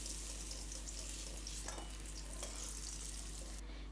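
Cumin seeds, dried red chillies and bay leaves hit hot oil in a pan, left from frying pumpkin for khichuri, giving a loud, continuous close sizzle that thins slightly near the end.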